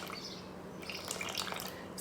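Tap water poured into a bowl for sourdough bread dough, a continuous soft splashing and dripping stream, fairly quiet and steady, with small irregular droplet sounds in the latter half.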